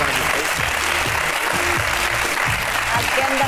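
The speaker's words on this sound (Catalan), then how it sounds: "Aplaudim pel senyor que no existeix." A studio audience on a Catalan evening television show applauds in a loud, sustained burst of clapping, with a low tonal music bed running beneath it.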